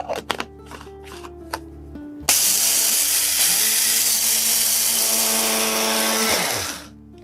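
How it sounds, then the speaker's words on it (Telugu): A mixer grinder grinding barley to powder roars to life after a few short clicks and rattles, grinding steadily at full volume for several seconds before winding down. "ఇలా మనం మిక్సీ జార్లో వేసేసి దీన్ని పౌడర్ ఫామ్లో ప్రిపేర్ చేసేద్దాము"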